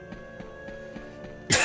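A few short, soft coughs and throat clearings recur over a steady tonal game background, ending in a louder, sharper burst of noise.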